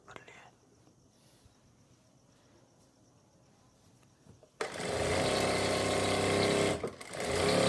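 A sewing machine stitches a seam on palazzo pants, starting abruptly after several quiet seconds and running loud and continuous to the end, with one brief dip near the close.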